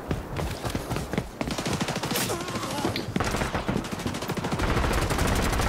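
Rapid gunfire from the XDefiant video game in a Domination match, dense bursts of shots that run almost without a break, loud and close throughout.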